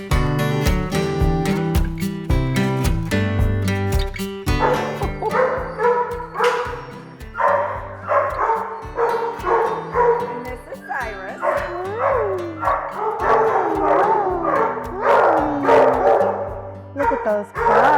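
Several Schnauzer puppies yip and bark in rapid, high-pitched bursts, close by, with excited whimpers mixed in and voices talking underneath.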